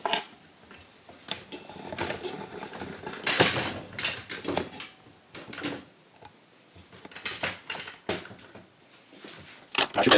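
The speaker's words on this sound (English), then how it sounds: "Just need a wrench and pull it." A wrench pulls and stretches the wire of a homemade electrostatic wire tweeter speaker, giving close, sharp mechanical clicks and ticks in irregular bursts, with no talking.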